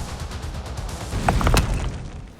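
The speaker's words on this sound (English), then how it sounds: "the intense concentrated blasts are transformed into continuous micro-explosions" Tunnel blasting set off as a sequence of micro-explosions produces a dense, rumbling crackle of overlapping low booms. It swells into a louder rolling burst midway and then tails off.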